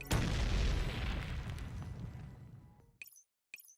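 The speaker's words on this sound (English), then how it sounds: "An explosion came from outside the admin center." Explosion outside an admin center in the Girls' Frontline: Neural Cloud video game, a loud close boom with shattering debris that decays over about three seconds, followed by two brief sharp clicks against silence.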